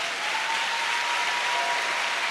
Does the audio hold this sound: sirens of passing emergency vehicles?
no